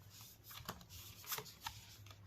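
Tarot cards being shuffled and drawn by hand, giving soft papery rustles and a few sharper flicks in irregular bursts, quiet and close, with a low steady hum underneath.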